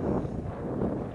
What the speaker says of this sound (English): I bet you can't hear a word I'm saying on account of it being really windy